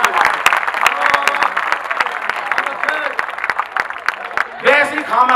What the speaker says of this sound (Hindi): तालियां एक बार हाथ उठा के बजाओ